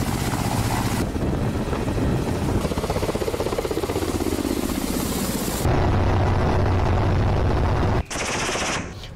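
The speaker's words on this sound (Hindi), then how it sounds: "जिस KA-52 हेलीकॉप्टर का जिक्र हो रहा है," Ka-52 Alligator attack helicopter in flight, a loud, steady rotor and engine roar with rapid rhythmic chopping that continues throughout, with a sharp break and shift in tone near the end.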